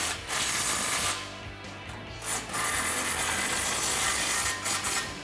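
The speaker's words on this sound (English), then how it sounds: "we can tighten down that clamp and tighten down the bolts out by our catalytic converter" A ratchet tightens exhaust clamp bolts near the catalytic converter on a Ford F150, bursts of rasping clicks in a few runs with short pauses, close and fairly loud.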